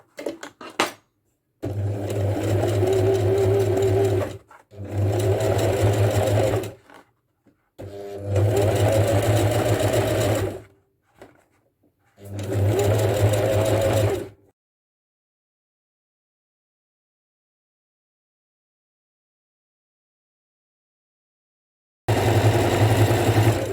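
A sewing machine stitches around the handle of a rope basket in loud, steady whirring bursts of a few seconds each, separated by short pauses, then a long silence before stitching resumes.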